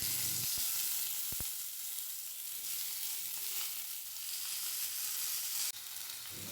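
Whole spices, chopped green chilli and tomatoes frying in hot oil, a loud continuous sizzle that holds steady throughout with a few stirring knocks, no talk.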